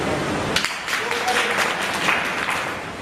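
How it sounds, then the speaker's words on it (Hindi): Scattered clapping from a crowd at a political speech in Agra, moderately loud, with a few sharp claps standing out over a murmur of background voices. "अब ताली बजी"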